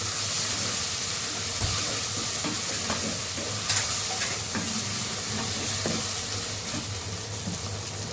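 Ginger garlic paste frying in a pan for mushroom biryani, stirred with a spoon: a close, steady sizzle runs throughout, broken by brief scraping stirs, with no talking.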